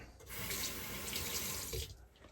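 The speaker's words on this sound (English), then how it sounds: "rinse that off your hand" A tap runs steadily as shaving soap is rinsed off a hand, a close, even hiss of flowing water lasting about a second and a half before cutting off, with splashing against skin and sink.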